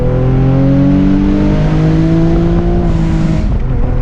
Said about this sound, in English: So we'll give you another no lift shift here.